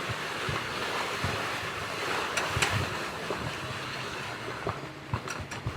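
Gusting tropical storm-force wind and waves while sailing off the coast southeast of Manhattan, a loud continuous roar with sharp wave slaps and thumps against the boat.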